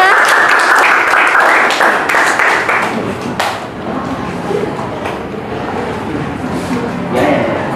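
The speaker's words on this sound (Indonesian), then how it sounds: "Kasih tepuk tangan untuk temennya." A classroom of students applauds a student group about to present its investigation results, a loud burst of clapping that thins and fades toward the end, with voices mixed in.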